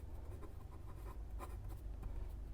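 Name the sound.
writing while solving an accounting problem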